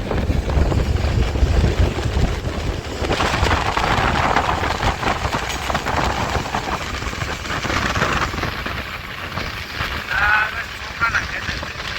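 Steady rain falls for the whole stretch as a dense, close hiss, with a gusty, washing texture that swells and fades in places.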